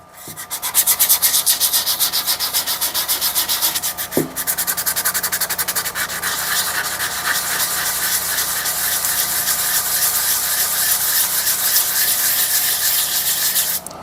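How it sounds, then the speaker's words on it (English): A rusty double-bit axe head is wet sanded by hand with WD-40. Fast, steady back-and-forth rasping continues close up throughout, with one brief knock partway through. "I'm going to try to wet sand it with WD-40 and see whether or not that has an effect on it"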